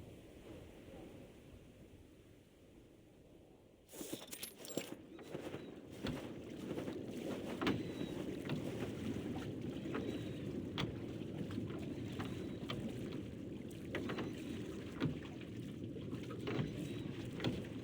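A boat in a video game glides across water, a steady wash and wind-like rush rising suddenly after a quieter opening and continuing evenly, fairly soft throughout.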